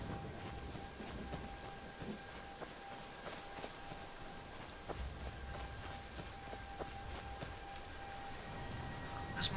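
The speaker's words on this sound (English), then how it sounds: "Still raining." Steady light rainfall in the video game Skyrim, a soft continuous patter of drops with faint crackling, quiet and even under a low ambient tone, no voices.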